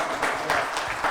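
A crowd gathered for the Young Diamantaires at a De Beers event applauds, a steady wash of many hands clapping at moderate, even loudness.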